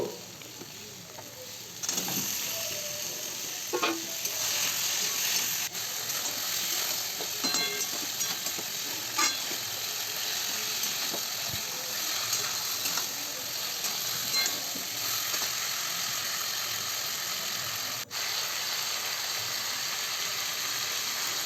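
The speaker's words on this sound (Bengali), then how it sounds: "এর মধ্যে আমি ভেজে রাখা ফুলকপি আর আলুগুলো দিয়ে আর একটু ভালো করে কষিয়ে নেব" Fried cauliflower and potatoes are stir-fried in a pan with a ginger spice paste. A steady sizzle runs throughout, broken by repeated scraping and clinking stirring strokes close by.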